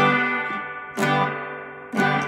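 An electric guitar runs through a Strymon El Capistan echo with spring reverb, giving two strummed chords that ring out with a long, washy, echoing tail and a distorted edge, played alone.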